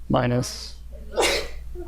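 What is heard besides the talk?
sneeze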